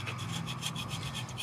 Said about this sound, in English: take a nice sharp scraper and make sure that you don't gouge the aluminum